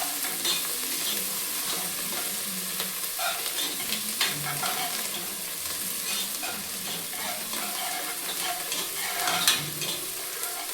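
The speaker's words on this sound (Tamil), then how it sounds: "ஒரு மீடியமாக கலர் சேஞ்ச் ஆகிற வரைக்கும் வதக்குனாலே போதும்" Chicken biryani ingredients are sautéed in a pan, a steady close sizzle of frying with occasional stirring scrapes and clinks, continuous and fairly loud, with no voices.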